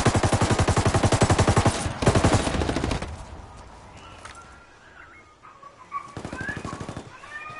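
Heavy automatic gunfire in a PS4 shooter game, rapid bursts of loud shots that stop, give way to quieter game noise with faint tones, then resume in another burst.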